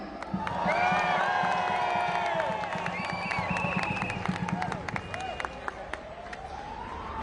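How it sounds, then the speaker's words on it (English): A street crowd at a London march in solidarity with Palestinians claps and cheers for a speaker, a loud, continuous mix of applause, shouting voices and a wavering siren-like tone. "Please give a round of applause for Miriam."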